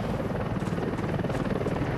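An Mi-24 Hind helicopter flies close by, its heavy rotor thumping in a rapid, continuous beat over a dense, loud engine roar.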